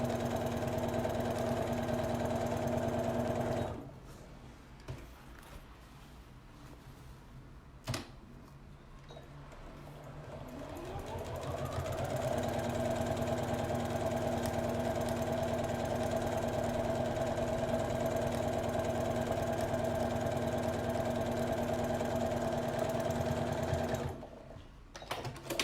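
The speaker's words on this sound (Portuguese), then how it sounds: "vou até aumentar minha velocidade, porque é só forro, tá facinho de costurar" A sewing machine stitches lining fabric for a lingerie holder, a steady close whirring hum with rapid ticking that pauses briefly, speeds up, and runs continuously before stopping near the end.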